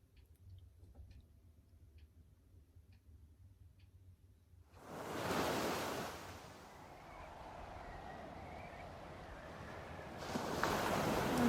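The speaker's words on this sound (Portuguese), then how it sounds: "Barulho do mar." Sea waves wash in as ambience in the video game Life is Strange, a rising roar of surf that swells, eases into a steady rush and surges again, following a quiet ticking stretch.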